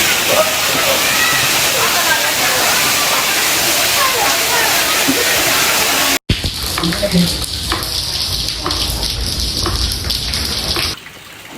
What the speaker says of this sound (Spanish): Miren cómo se gotea aquí adentro. Afuera hay un tormentón y adentro una llovizna.